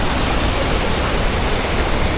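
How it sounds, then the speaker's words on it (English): A waterfall in Iceland roars up close, loud and constant, as a dense, even rush of falling water with nothing else standing out. "it's so loud, the water."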